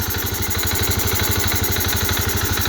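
A Honda Beat scooter engine running steadily with low power, a continuous buzzing drone with a regular pulsing rhythm, close and loud throughout.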